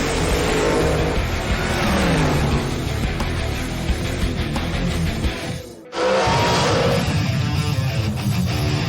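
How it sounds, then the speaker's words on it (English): Vintage Top Gas-fueled dragsters racing in the March Meet at Famoso Raceway in Bakersfield, California, a continuous loud, throaty engine roar that briefly drops out near the middle before surging back at full volume. "vintage dragsters show up at the Famoso Raceway in Bakersfield, California, to compete in the March Meet Top Gas-fueled drag races"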